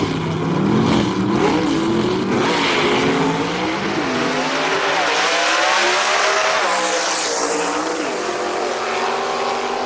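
Doug Dobbins' drag car launches hard off the line and races down the strip at an outdoor drag racing event, a loud continuous roar with rising engine pitch and a brief tire squeal, filling the whole stretch.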